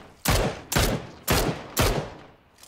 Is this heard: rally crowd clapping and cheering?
no